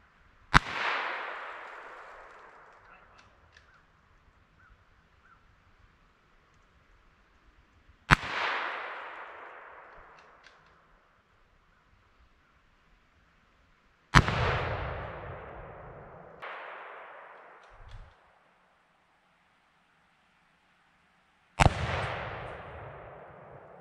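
Rimfire gunshots fired at fiberglass and polyurethane targets: five sharp, loud cracks spaced several seconds apart, each followed by a ringing, decaying tail, with quiet between them.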